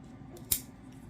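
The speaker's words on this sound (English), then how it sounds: "Oh, you got scissors." A single sharp clack of scissors being handled close by during bonsai work with propagated schefflera cuttings, rising briefly over a quiet room and fading at once.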